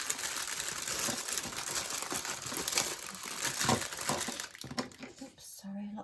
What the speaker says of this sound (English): a lot of crinkling going on there